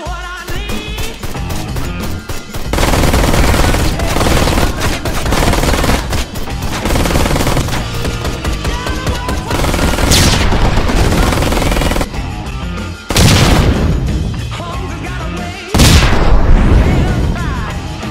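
Turret machine-gun fire in the video game Ride to Hell: long, loud, continuous automatic bursts with booming impacts, broken by a few brief pauses and sudden restarts.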